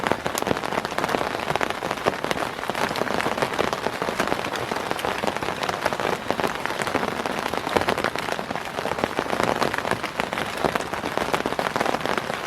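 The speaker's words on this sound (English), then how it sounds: "I'd rather just stay up and listen to it rain." Rain pours steadily on a camp in the woods, a dense patter of close drops tapping surfaces for the whole stretch, with no one talking.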